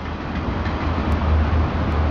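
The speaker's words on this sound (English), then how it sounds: "Uh-oh, we got a train coming." A long train rolls steadily past a tree-service job site, its heavy low rumble and rail clatter sustained and loud throughout, with no talking.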